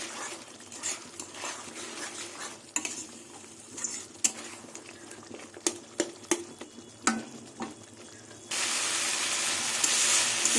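Spice paste for a tengra fish curry with mustard and cumin sautés in a pan with a soft sizzle, broken by repeated sharp spatula scrapes and clinks against the metal, then a sudden louder hiss near the end.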